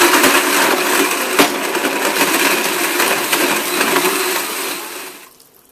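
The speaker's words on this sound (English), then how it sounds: "just have a regular blender and blend this on high for 30 to 60 seconds." A blender runs on high, crushing and whirring a smoothie loudly and continuously with gritty rattling, then winds down and fades near the end.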